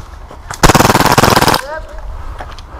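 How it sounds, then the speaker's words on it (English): Glock Fade airsoft pistol firing a rapid full-auto burst of about a second, loud, tightly spaced pops close by, ending in a brief mechanical whine. "As you can see, a really fast firing little pistol."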